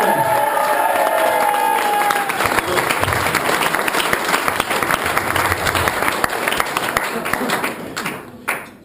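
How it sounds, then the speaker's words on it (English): Crowd of wedding guests applauding the best man, loud sustained clapping with some cheering that runs for several seconds before fading out. "a big round of applause for the best man"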